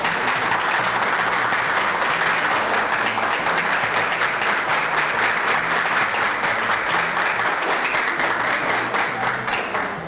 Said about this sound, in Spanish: les pediría pues que lo reciban con un fuerte voto de aplausos